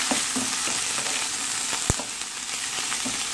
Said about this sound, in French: Ensuite, on ajoute nos champignons. Je mélange bien.